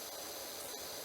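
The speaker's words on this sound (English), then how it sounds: "As I continue to spray." Pressure washer spraying in PowerWash Simulator, a steady broadband hiss that runs evenly throughout at moderate level, with no voices.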